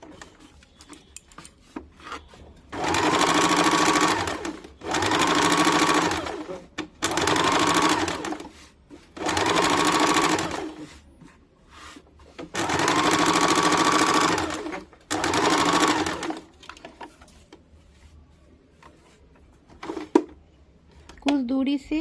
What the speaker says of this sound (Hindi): अब हम लोग इस वाले पोर्शन को नीचे के तरफ रख के चाप सिलाई डाल देंगे।